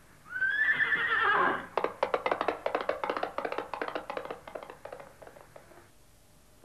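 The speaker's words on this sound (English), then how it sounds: "Gallop." A horse whinnies loudly, then its hooves pound out a fast, steady galloping rhythm that gradually fades into the distance.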